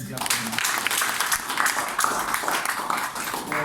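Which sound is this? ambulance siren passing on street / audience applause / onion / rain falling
audience applause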